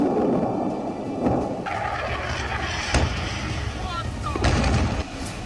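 Blasts during the Russia-Ukraine conflict boom and rumble in several heavy bursts over a roaring background, with sharp cracks standing out near the middle and end.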